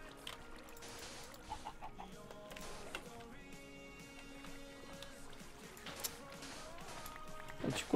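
Chicken clucking in a Minecraft game, short blocky clucks scattered among game sounds and a running background track, with a voice talking over much of it.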